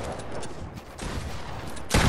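Gunfire in the video game Fortnite crackles in a rapid burst, followed by a louder close shot at the end, over steady game noise.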